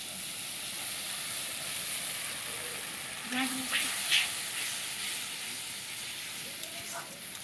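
Spice paste dropped into a hot pan sizzles in a steady, close hiss that flares briefly midway as it hits the oil, under faint background sounds.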